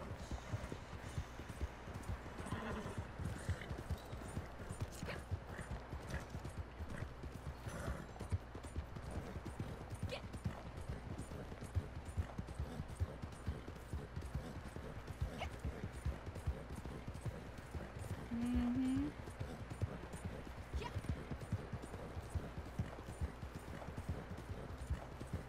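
A horse's hooves clip-clop steadily and continuously at a walking pace, close and fairly loud, with faint background murmur now and then.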